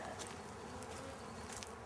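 Honey bees buzzing closely around a queen cage holding a queen and worker bees, a dense continuous hum with no voices.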